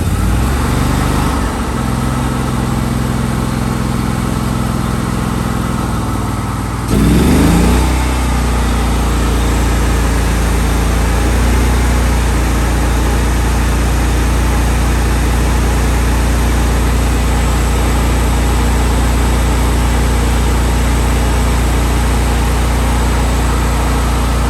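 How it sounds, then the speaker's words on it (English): A Miller Bobcat Air Pak welder and air compressor engine cranks up and then runs with a loud, steady low drone close by, without any voices over it. "So I'm gonna crank it up and you'll see."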